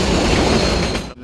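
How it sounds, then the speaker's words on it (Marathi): A passenger express train on the Konkan rail route rumbles past alongside, a loud, continuous roar of wheels and cars close by, cutting off abruptly at the end. "साईडने पण आपल्या ट्रेन चालू आहे बघा"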